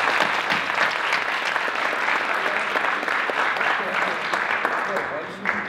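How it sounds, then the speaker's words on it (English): A crowd at a cross-country team banquet claps for volunteer helpers, steady and loud applause with some voices and cheering mixed in throughout. "So can we just give them a round of applause?"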